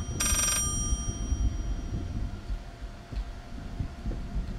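A telephone rings in the horror video game Layers of Fear: one short, bright, buzzy ring burst near the start, then fades into a low, murky ambient hum with faint knocks, no talk.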